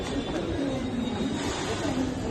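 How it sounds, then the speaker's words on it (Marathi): A freight train rumbles past close by, a steady low roar and rattle of wagons with no break across the whole stretch. "मालगाडी"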